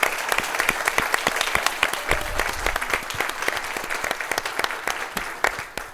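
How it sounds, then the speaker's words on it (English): An audience applauds a guest host at a conversation event with HBCU presidents, dense clapping with sharp individual claps standing out, steady and fairly loud, tapering slightly near the end. "So let's give Taleisha a round of applause."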